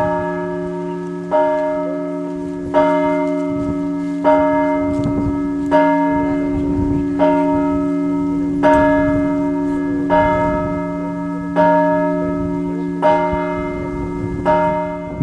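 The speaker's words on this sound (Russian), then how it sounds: "И вот мы слышим первый звон колокольни Николо-Феодосиевского храма" Newly consecrated bells of the Nikolo-Feodosievsky church bell tower in the village of Karmazinovka ring for the first time, a loud, slow, steady series of resonant strikes about every one and a half seconds, each tone sustaining and overlapping the next.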